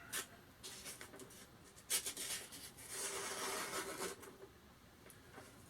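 A Mora Eldris knife with a Scandinavian grind carves wood in short, quiet, rough rasping strokes, one after another, each with a dry scraping texture.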